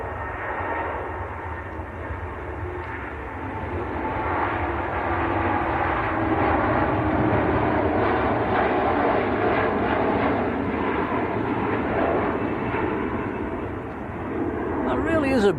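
A Boeing 787-9 Dreamliner starts its takeoff roll at Manchester Airport, its engine roar building from a distance into a steady rising rumble while a commentator talks over it.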